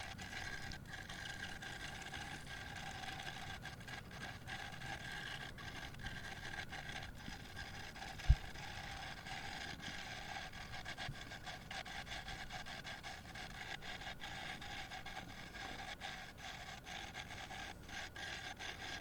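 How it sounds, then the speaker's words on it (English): A wood lathe turns a lopsided wooden blank into a round mallet at very low speed, giving a steady, continuous scraping and rasping of the tool against wood with one brief sharp knock partway through; no talking. "I have to run the lathe at a very low speed and take it bit by bit"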